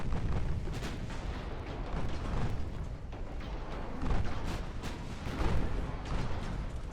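Battleship turrets fire in the naval warfare game Ultimate Admiral Dreadnoughts, a dense rumbling barrage of booms and distant gunfire rolling continuously with a few heavier blasts standing out.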